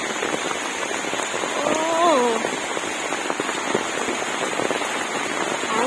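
Rain falls steadily outdoors on a dark day, a dense, even hiss of drops on surfaces that runs the whole time, with a brief whistling or squeaky tone rising partway through.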